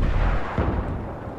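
A rocket fired in a first-person shooter match, a loud low boom followed by a second thudding blast that rumbles off into fading noise, all within about a second.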